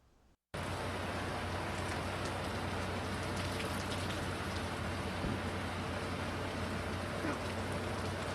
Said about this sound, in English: The rain picking up again right now